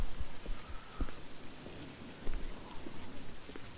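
Light, steady video game rainfall in The Elder Scrolls IV: Oblivion patters softly with occasional heavier drops, quiet and continuous with no voices.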